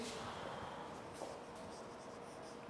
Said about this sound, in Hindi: तो हम यहाँ ये वर्ड भी लिखते हैं एक्विटेड